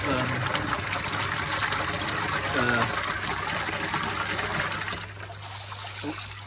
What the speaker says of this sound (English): So I'll pull the valve back and the water's flowing into the pond